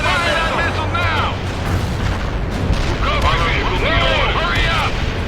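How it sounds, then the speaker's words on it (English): Missile launch amid battle in the strategy game World in Conflict, a loud roaring rush with rising and falling whooshes over continuous booms and rumble, with voices mixed in. "Fire that missile now"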